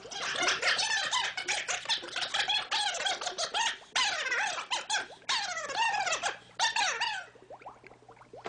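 A small chipmunk squeaks in rapid, high-pitched chirps, loud and near, running in dense bursts almost continuously with only brief gaps.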